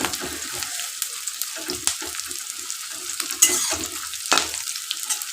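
Thickly cut onions fry in a pan for a chicken dish, giving a steady close sizzle while a utensil stirs them with soft scraping strokes, and no one talks.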